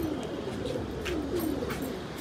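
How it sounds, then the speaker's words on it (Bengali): A pigeon from a 105-kilometre homing race coos in soft repeated low phrases, close by, over a steady background hum with no talk. "এই একটা কবুতর"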